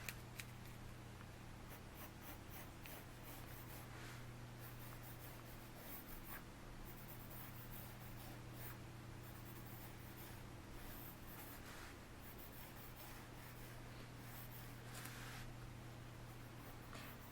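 Pencil scratching steadily across paper while sketching a gnome, a continuous close, faint rubbing texture with brief stroke bursts over a low steady hum.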